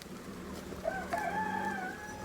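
Domestic chickens that have wandered into a home flower garden cluck softly, and one bird gives a drawn-out crow partway through, all faint and somewhat distant against a quiet outdoor background.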